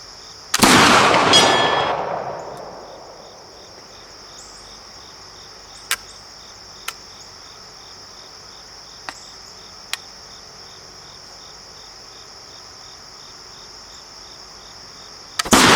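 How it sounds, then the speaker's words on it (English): A flintlock swivel-breech rifle fires a single loud shot with a long, rumbling decay. Insects chirp steadily in the background, and a few sharp, faint ticks follow before a second blast cuts in at the very end. "make the 200-yard shot with my swivel breech rifle"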